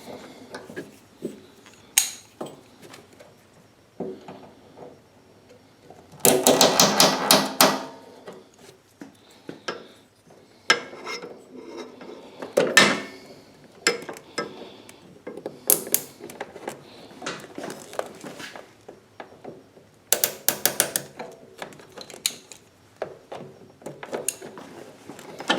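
Nylon hose clamps being tightened on a fuel hose while installing an extended-run fuel tank kit on a Champion 15000/12000 generator, heard as a series of close ratcheting clicks and plastic snaps in scattered bursts with quiet gaps between.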